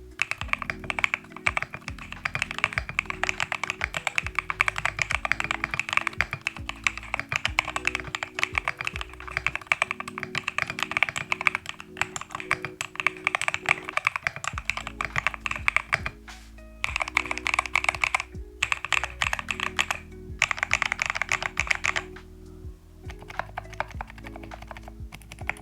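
Steady, fast typing on a wooden mechanical keyboard, crisp clacky keystrokes in a continuous rhythm with brief pauses, close up and alone.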